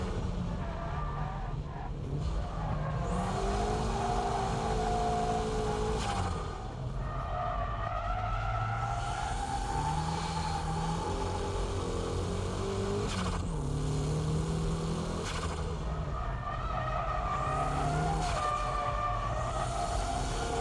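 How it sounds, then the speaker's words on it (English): A car drifts through S-curves, its engine droning and shifting pitch while tires squeal and skid in long sweeping bursts, loud and close throughout. "On the S-curves, the faint drift should be used."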